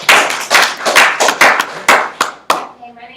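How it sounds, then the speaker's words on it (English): A room full of people claps for a participant at an introductory talk, a dense burst of hand claps fading toward the end, with a voice starting to speak under the tail. "Everybody give Keidron a great round of applause."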